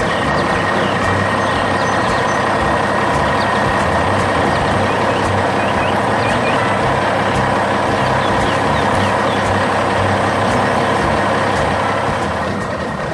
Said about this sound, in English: That dump truck is ready to unload a massive pile of materials for the builders